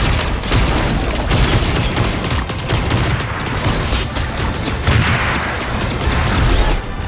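Mechs open fire in the video game Super Mecha Champions, a loud, continuous barrage of rapid weapon bursts and booming impacts layered with clanking mechanical noise, filling the whole stretch without any talk.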